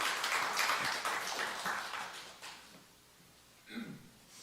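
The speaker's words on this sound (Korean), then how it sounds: "목자님 나오실 때 박수로 환영해 주시기 바랍니다" Church congregation at a seminary leadership session clapping to welcome a small-group leader to the front: a brisk burst of applause that fades out midway, followed by a brief shuffling knock near the end.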